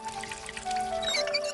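Water is poured into a large cooking pot, making a close, steady trickle whose pitch climbs as the pot fills.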